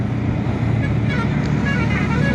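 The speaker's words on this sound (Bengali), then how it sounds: "বাবা কি জোরে জোরে হর্ন মারছে" Vehicle horns sounding in busy road traffic with buses at a city signal, heard from a moving motorbike: loud continuous engine and road roar, with faint honks rising intermittently in the second half.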